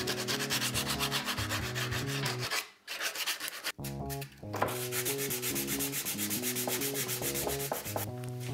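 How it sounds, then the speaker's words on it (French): A wooden fox carving is sanded by hand, with steady rhythmic rubbing strokes of abrasive on wood, close and clear. There is one short pause near the middle and no talking. "Et je finis avec un ponçage à la main."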